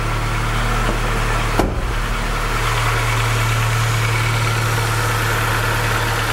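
Saab 900 II engine idling steadily after a new exhaust flex pipe was fitted, a continuous low hum with a brief knock near the start, no voices.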